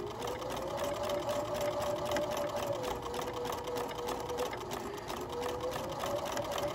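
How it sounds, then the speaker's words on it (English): A sewing machine stitches a bookmark seam at a slow to moderate speed, giving a steady, even mechanical whirr that runs without pause, close and alone. "we're going to sew all the way until the end, going at a slow to moderate speed"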